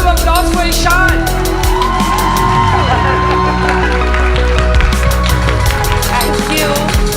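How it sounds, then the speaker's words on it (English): A studio audience cheers, whoops and applauds loudly for actor Ishaan Khatter, a dense, sustained burst of clapping and yelling that fills the space. "Can we have a big round of applause for Ishaan?"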